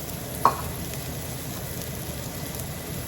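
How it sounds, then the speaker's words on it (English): Onion and panch phoron fry in a pan with a steady, even sizzle and crackle, close and continuous, with one small tap near the start. "I'm going to mix the panchpurana with the onion, then until it starts cooking"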